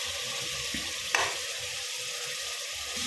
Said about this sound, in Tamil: கேஸை கொஞ்சம் சிம்மில் வச்சு வதக்கி விடுங்க